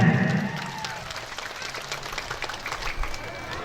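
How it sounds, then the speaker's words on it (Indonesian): Hall audience applauding at the SMK Nuurul Bayan graduation ceremony in Kalapanunggal, a moderate wash of clapping that starts louder and settles into a steady, slightly uneven patter throughout. "Mohon tepuk tangannya."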